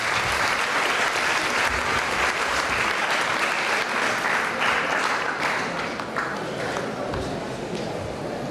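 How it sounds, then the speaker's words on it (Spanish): Loud, sustained applause from an audience at an oratory contest marking the 250th anniversary of José Simeón Cañas's birth. Many hands clap in a thick, continuous roar that eases slightly toward the end. "Recibámoslo con un fuerte y caluroso aplauso"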